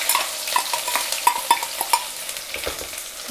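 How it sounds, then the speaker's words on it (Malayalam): Crushed ginger and garlic hit hot oil after mustard seeds have popped, making a close, lively sizzle with sharp spatters and ladle clinks against the pan while cooking a prawn and potato roast, with no voices. "ഇനിയിപ്പം ഇഞ്ചി വെളുത്തുള്ളിയുടെ ചതച്ചതാണ് ഇട്ട് കൊടുക്കുന്നത്."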